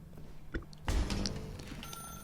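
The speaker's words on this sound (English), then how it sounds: "Now pick up the phone." Telephone ringing in the video game The Stanley Parable: Ultra Deluxe, a quiet electronic ring heard as a few faint tonal bursts over low background hum and a brief clunk, with no talk.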